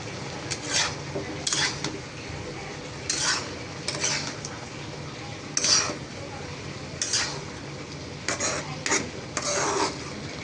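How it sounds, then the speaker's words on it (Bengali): A pot of chepa shutki curry with lotiri being stirred, a metal spoon scraping and clanking against the pot in irregular bursts over a constant low sizzle. "তো এই তো কষানো হয়ে গিয়েছে আমি এখন একটু নেড়ে নিব"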